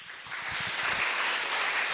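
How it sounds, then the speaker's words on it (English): Applause rises from an audience at a startup pitch competition awards ceremony, building quickly into a steady, full round of clapping. "ladies and gentlemen, big applause"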